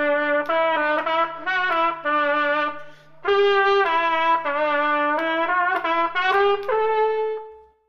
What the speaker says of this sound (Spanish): esta es la trompecabeza o trompeta de cabeza, más o menos suena así.